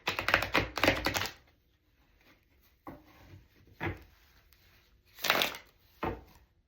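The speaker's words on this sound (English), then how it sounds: "I'm going to shuffle one more time." A deck of tarot cards is shuffled up close in a quiet room, with a couple of longer riffling bursts at the start, then scattered short shuffles and taps separated by pauses.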